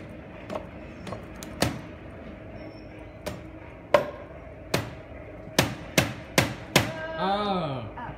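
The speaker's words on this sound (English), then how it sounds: "Use a hammer." A hammer strikes something at Ogden Union Station, giving about a dozen sharp, separate blows in an uneven rhythm that speeds up near the end. A voice rises briefly at the very end.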